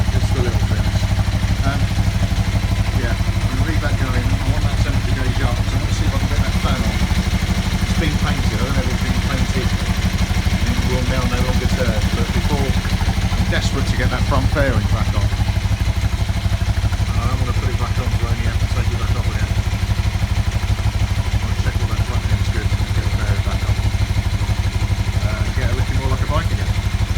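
A Kawasaki GPZ500S motorcycle engine idles steadily and close by, a continuous low mechanical hum with light clatter running unchanged for almost half a minute, with faint background voices.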